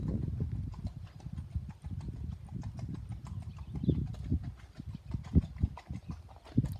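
A gelding's hooves clip-clop under a rider in a steady, rhythmic gait, with close, fairly loud thuds at an even pace throughout.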